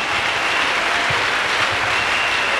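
A church congregation claps together in steady, continuous applause, a dense even patter of many hands filling the room without a break for the few seconds heard.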